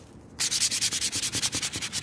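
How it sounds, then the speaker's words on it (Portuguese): Hand sanding of a thin 3 mm MDF piece, with quick, steady back-and-forth rasping strokes that start abruptly and repeat in a close, even rhythm. "Tem que ir lixando, toma cuidado para não quebrar a peça, porque é um MDF de 3 milímetros"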